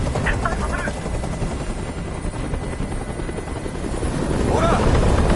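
A helicopter hovering close overhead in the video game Detroit: Become Human, its thick rotor thrum and engine roar droning steadily and swelling slightly louder toward the end.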